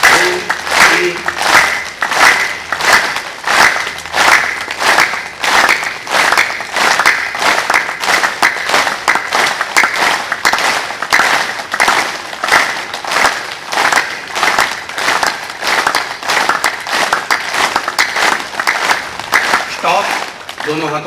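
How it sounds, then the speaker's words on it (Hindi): Forceful rhythmic hand clapping during a yoga exercise, about thirty loud, evenly spaced claps in a steady beat, close and sustained throughout. "पूरी ताकत से 30 बार ताली वादन करेंगे"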